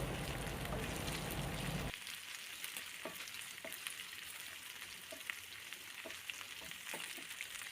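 Curry leaves sauté in a pan of hot oil for a bitter gourd pickle: a loud crackling burst of frying fades into a softer steady sizzle, with light clicks of stirring.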